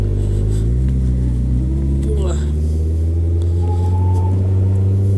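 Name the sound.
Kawasaki Concours 14 motorcycle engine revving while clutching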